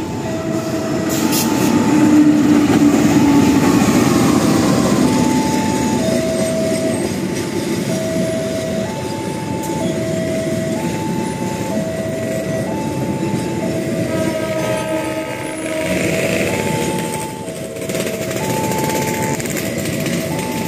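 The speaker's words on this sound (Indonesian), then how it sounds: "saya akan cegat kereta api S9C Bukit Serelo ya, dari kereta Pati tujuan akhir Lubuk Linggau," A passenger train rumbles loudly and steadily close by arriving at Prabu Mulih station, Indonesia, with a two-tone warning chime repeating in a regular pattern and faint wheel squeals.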